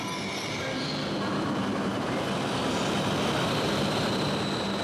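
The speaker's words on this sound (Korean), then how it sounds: "기차는 그렇게 밤새 12시간을 달려 태평양 연안에" An overnight train in Japan, on a twelve-hour run from Sapporo to the mainland, rolls along its rails with a steady, continuous rumble and a faint hiss, unbroken for the whole stretch.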